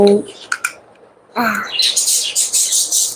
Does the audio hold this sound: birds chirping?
yes